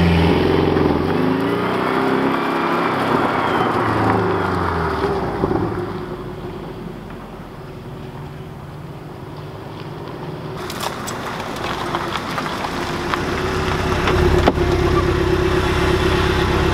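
Porsche Cayman S with a turbocharged engine heard from inside while driving, a steady low drone that dips then swells again as the engine builds, mixed with road and wind noise, no talking.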